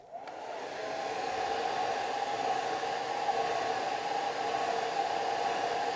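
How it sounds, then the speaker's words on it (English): A hair dryer blows steadily on a still-wet watercolor flower painting, a loud continuous whooshing hum that starts within the first moment and holds evenly throughout with no talking. "So I'm going to put the blow dryer on."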